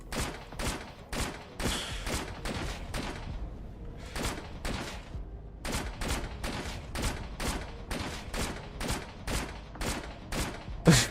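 Rapid bursts of AK rifle fire from a first-person shooter demo game, roughly a dozen loud clustered volleys of shots repeating steadily with brief gaps between them.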